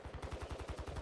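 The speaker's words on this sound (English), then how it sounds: "Oh, my teammate's getting shot by somebody else" Rapid automatic gunfire from the mobile shooter Warzone Mobile, a steady stream of about ten evenly spaced punchy shots in one second, loud and close with no talk over it.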